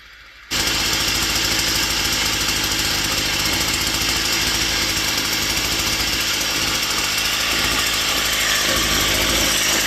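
The small engine of an old Japanese three-row rice paddy weeder starts abruptly and revs loud and steady close by, with a rough, rattling mechanical drone that holds throughout.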